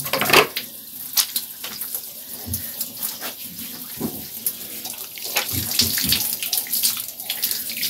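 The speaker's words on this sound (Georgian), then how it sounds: "წყალი მოდის." Water runs steadily from a household tap, a continuous hissing splash that stays fairly close and loud throughout, with a few small knocks and clatters mixed in and no talking.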